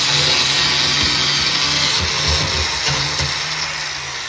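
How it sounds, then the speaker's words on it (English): A small grinder whirs steadily against fiberglass hatch corners on a boat with gritty, rasping bursts, loud and close, with no talking. "On a little grinder"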